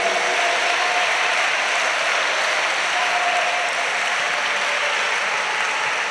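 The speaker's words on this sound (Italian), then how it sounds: "facciamo un applauso ai nostri assistenti spirituali, ai nostri preti." At an inaugural assembly, a crowd applauds for priests and spiritual assistants, giving continuous, loud, dense clapping that fills the whole stretch evenly.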